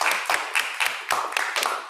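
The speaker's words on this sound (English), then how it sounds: "let's give all our panelists another big round of applause" Scattered clapping from a small conference audience applauding the panelists, individual claps clearly spaced in uneven bursts, close and moderately loud with no talk over them.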